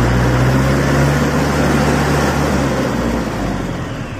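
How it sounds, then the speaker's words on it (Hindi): A 2023 Mahindra 50 HP tractor's diesel engine runs loudly and steadily up close, a continuous low rumble that eases slightly toward the end, with no talk. "स्टार्ट करते हैं ट्रैक्टर को, तो आप देख सकते हैं और आरपीएम कितना चढ़ेगा वो भी हम आपको दिखाते हैं इस ट्रैक्टर का।"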